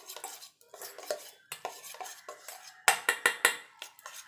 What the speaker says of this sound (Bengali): ভালো করে ফেটিয়ে নিতে হবে যাতে কোনো রকম মানে দানা দানা ভাব না থাকে